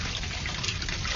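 Warm water pours in a dense, continuous splashing rush that sounds close and fairly loud throughout, with no voices over it.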